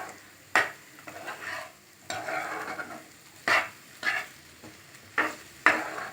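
Raw plantain podimas stirred in a pan, with a spoon scraping and clacking against the metal in irregular strokes over a soft background sizzle, close by with no talk.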